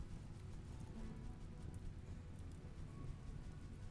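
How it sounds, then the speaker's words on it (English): Rain falls steadily in the colony-building game Rimworld, a dense, even hiss of drops with a faint low rumble, continuous and without speech. "There's still rain, but"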